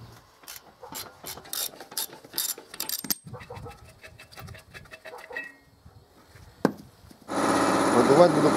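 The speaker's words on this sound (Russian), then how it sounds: "Откручиваю головкой на 30." A ratchet fitted with a 30 mm socket unscrewing the valve of a gas cylinder, loud rapid clicking strokes in bursts, then quieter handling sounds, and finally a steady hiss of air.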